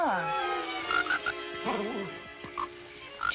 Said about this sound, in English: Just a little frog.